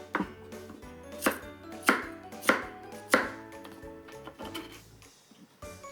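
A knife chops lotus root into rough chunks on a cutting board, with about half a dozen sharp, evenly spaced thuds close by and no talking.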